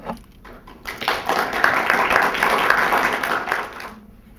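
A poetry festival open mic audience claps briefly, a modest round that swells after a second, holds steady, then fades out quickly near the end.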